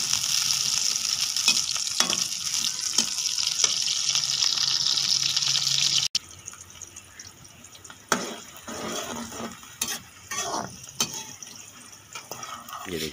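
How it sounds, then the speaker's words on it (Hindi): Chicken pieces for chicken do pyaza frying in a pan give a loud, continuous close-up sizzle for about six seconds, then quieter bubbling broken by scattered sharp clinks and scrapes of stirring. "बस इनको फ्राई करना है।"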